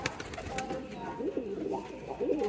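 Domestic pigeons coo in a series of soft, rolling calls close by, the coos growing more frequent toward the end over a faint background hum.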